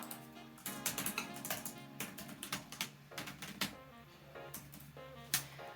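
Rapid, irregular clatter of keys being typed on a computer keyboard, close and fairly quiet, with bursts of taps and brief pauses as a sentence is entered.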